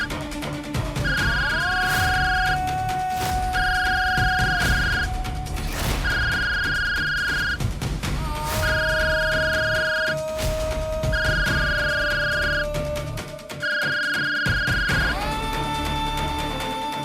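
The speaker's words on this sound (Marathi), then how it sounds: "वाघमाऱ्यांचा फोन इथं" A mobile phone rings in a police drama scene, its electronic ring repeating in six regular bursts over a dense, loud background score, with no one talking.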